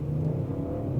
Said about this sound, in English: The roar from the engine is really well done